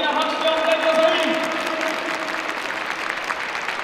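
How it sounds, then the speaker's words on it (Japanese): Applause greeting a coach's entrance at a retirement ceremony, sustained clapping from a large audience with a tonal music-like line over it early on, staying steady throughout. "皆様大きな拍手をお迎えください。"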